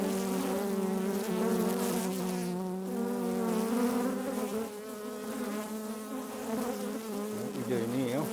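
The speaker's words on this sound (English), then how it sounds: "Bees going to the box." A swarm of honeybees in a city setting buzzes steadily as they fly toward a hive box, a dense, continuous hum that stays loud and close throughout, with faint voices underneath.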